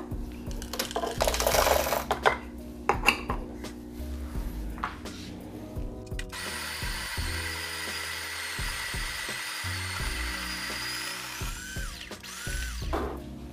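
A coffee grinder works through 18 grams of re-roasted beans, first with a close rough crunching whir and then with a thinner, steadier mechanical hum and scattered clicks, with no voices.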